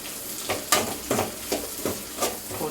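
Beans being sautéed in a pan for veg fried rice: a low background sizzle broken by a handful of regular scraping strokes from the spatula, close and moderately loud.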